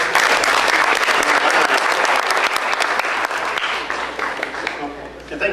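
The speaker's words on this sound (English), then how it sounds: "Big round of applause for her." A dense wash of audience applause rises at full strength and then slowly thins toward the end. Faint voices and cheers mix in underneath the clapping.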